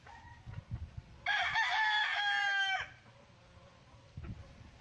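A gamefowl rooster, a hatch gray bull stag, crows once, loud and close, a drawn-out call lasting over a second, with faint clucks and shuffling before and after.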